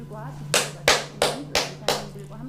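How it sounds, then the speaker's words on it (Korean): Five sharp, loud claps at an even pace, each ringing briefly, with a steady low hum underneath. "박수 쳐드리고 싶습니다"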